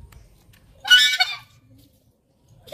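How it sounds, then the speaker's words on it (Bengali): A goose at a park zoo gives a single loud, nasal honk after a quiet moment, with faint background noise around it. "ওই তো এটা একটা হাঁস"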